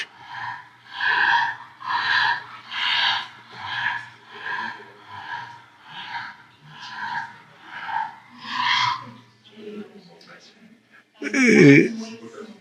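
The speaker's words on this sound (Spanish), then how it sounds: "el ruido que hacen estos perros, este es un estertor." A dog's noisy, rattling stertor breaths repeat in a steady rhythm, about ten harsh snoring-like inhalations close up, ending with a louder snort.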